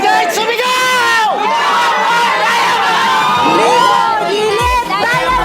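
A large crowd at a first-anniversary team event shouts, whoops and cheers continuously and loudly, with overlapping rising yells filling the whole stretch.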